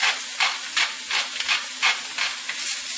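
Garlic and onion fry in a pan with a steady hiss and sizzle. Rhythmic stirring swishes repeat about every half second, close and moderately loud, with no one talking.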